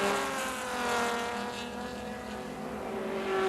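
Racing engines of a dark Porsche 924 and a white open Triumph TR7 in a 1980 SCCA D Production race drone steadily at moderate distance, a rising and falling mechanical whine without speech.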